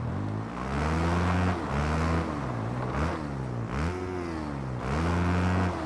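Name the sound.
motocross dirt bike engine revving, from Motocross the Game video game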